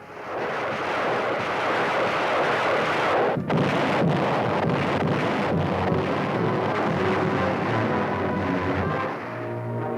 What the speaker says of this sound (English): First, the bombardment.